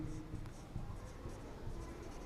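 Pen or marker scratching across a surface while equations are written by hand, a steady run of close, soft strokes with no talk.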